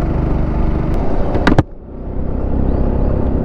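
A car engine labors up a steep hill road in third gear, a steady close low drone interrupted by a brief sharp knock before the engine note resumes.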